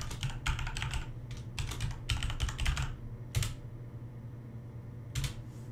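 A command typed on a computer keyboard in AutoCAD: several quick clusters of sharp, close key clicks with gaps between them, over a steady low hum.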